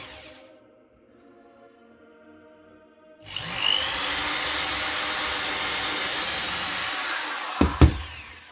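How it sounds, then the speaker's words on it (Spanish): A power drill bores a hole in a small wooden doll's wardrobe being built, starting after a quiet pause and running as a steady, loud whine for about five seconds before cutting off with a brief clatter. "vamos a taladrar y a sujetar"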